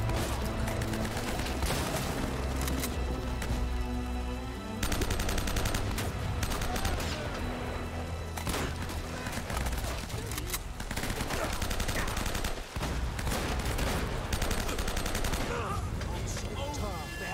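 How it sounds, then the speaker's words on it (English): Enemy gunfire in Uncharted, sustained bursts of loud, close shots that repeat in uneven volleys over a dense game soundtrack, with brief pauses between barrages. "I just have to wait until he does his three shots"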